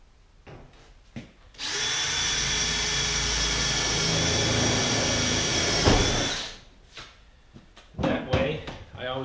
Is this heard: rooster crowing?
no